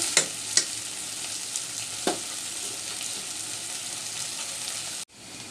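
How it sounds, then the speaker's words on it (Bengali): Bitter gourd and potatoes frying in a pan sizzle steadily and close, broken by a few sharp utensil clinks early on, then cut off abruptly near the end. "তিতকরলার আলু ভাজা হয়ে গেছে"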